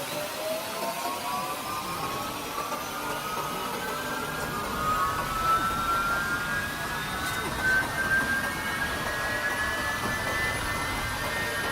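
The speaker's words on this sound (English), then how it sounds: "The core of a jet." A jet engine's gas-generator core runs at a test site, giving a steady loud roar with rising whine tones that climb over the span, continuous throughout with no break.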